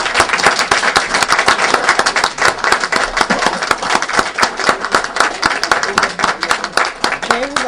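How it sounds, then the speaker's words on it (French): Standing audience at a ceremony claps hard for an ambassador, loud close handclaps merging into rhythmic, dense applause that continues throughout, with some voices mixed in. "je vous demande de vous tenir debout et d'applaudir très fort"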